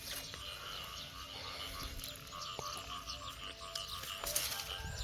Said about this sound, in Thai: เสียงกบเสียงเขียดฮ้อนสนั่น